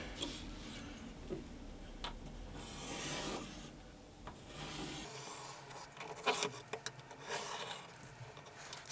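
A pencil traces around the outline of a real knife laid on an MDF board, making quiet, close scratching and rubbing strokes with small taps and pauses between them.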